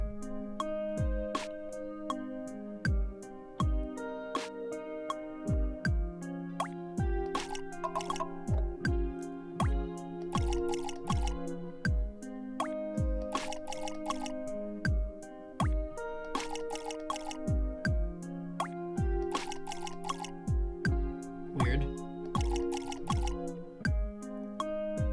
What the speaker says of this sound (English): Tap the action button to water the sprouts.